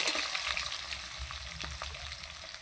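Potatoes frying in hot oil with spices and turmeric in a pan, a steady close crackling sizzle with scattered pops and light stirring scrapes, loud and alone.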